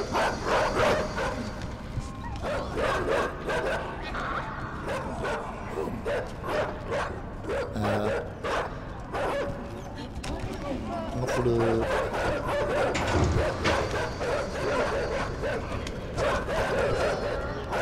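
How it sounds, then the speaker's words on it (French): Several dogs bark and yip close by in an outdoor setting, with a person talking over the noise throughout. "Oh, les chiens !"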